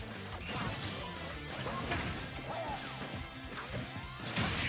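In a Smash Bros match, an up smash attack lands with a sharp crash amid a dense wash of game effects, whooshes and hits that run continuously at moderate loudness.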